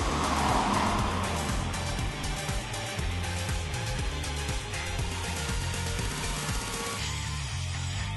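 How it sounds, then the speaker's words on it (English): Subaru BRZ sports car being driven, a steady engine and road drone with clunks and mechanical noises from around the chassis, continuous and fairly loud, no talking. "the BRZ isn't scared to tell you that you're doing it wrong, with all manner of mechanical noises emanating from the various corners of the car"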